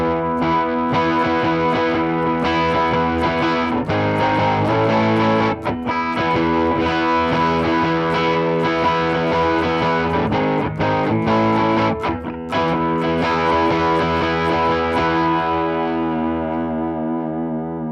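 Vintage Gretsch electric guitar on its Supertron bridge pickup with the master volume up, played through effects for a steady run of distorted chords and notes with slight chorus, closing on a long ringing decay.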